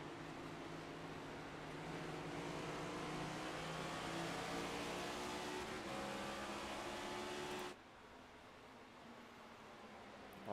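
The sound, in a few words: race cars passing on an oval track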